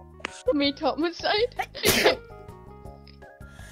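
Two sneezes burst out in quick succession amid video game music and talk, the second louder and sharper.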